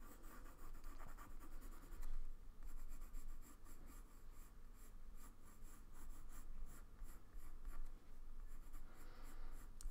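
Colored pencil shades purple along the edges of a Christmas ornament drawing on paper, a close, quiet run of rhythmic scratchy strokes with brief pauses between bursts.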